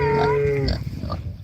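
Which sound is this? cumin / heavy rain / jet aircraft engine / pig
pig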